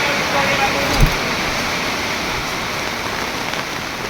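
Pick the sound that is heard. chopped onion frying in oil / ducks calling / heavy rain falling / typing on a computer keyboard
heavy rain falling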